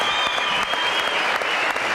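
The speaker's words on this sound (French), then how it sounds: "Voulez-vous quelques applaudissements, s'il vous plaît, mesdames, messieurs, pour ce monsieur?" Studio audience applause on a French TV variety show, a dense steady wash of many hands clapping, loud and close throughout with no talk over it.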